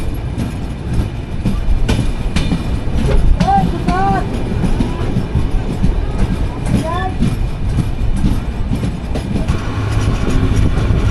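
Banolata Express passenger train running from Dhaka near Amnura, Bangladesh, with steady rumbling wheels and rhythmic clatter of carriages, sustained and close throughout, with occasional brief squeals and faint background voices.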